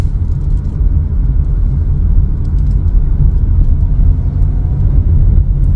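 Steady rumbling road traffic on a national highway, mostly motorcycles and tricycles, a loud continuous engine drone passing close by without pause.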